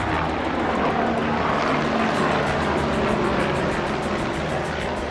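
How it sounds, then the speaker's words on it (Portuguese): Steady rotor-engine drone of a helicopter passing overhead near the Minhocão elevated highway, continuous and fairly loud with a broad rumbling wash throughout. "A gente tem barulho de helicóptero também por aqui."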